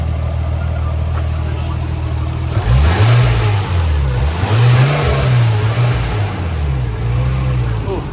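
A 2000 Nissan Skyline R34 starts at a steady idle, then its engine revs up and down several times in quick blips, the muffler exhaust swelling and falling loudly before settling back.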